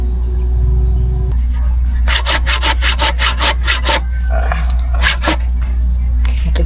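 Hand saw cutting through hard wood while a knife handle is being made, a rapid series of rasping back-and-forth strokes in bursts, loud and close over a steady low hum, with a short pause between runs of strokes.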